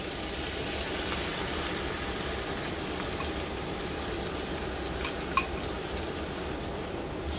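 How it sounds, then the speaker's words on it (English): Sweet and sour sauce hitting vegetables frying in a pan: a steady, even sizzle like light rain throughout, with a single faint clink of a utensil near the end. "We're going to pop in our sauce that you saw me make earlier."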